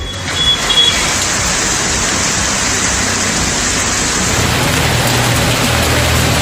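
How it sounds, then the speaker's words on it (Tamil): Heavy monsoon rain pours over a suburb of Chennai in news footage, a steady dense hiss with low rumble that carries on without pause, close and fairly loud, with no voices. "சென்னை புறநகர் பகுதிகளில் கனமழை வெளுத்து வாங்கியது."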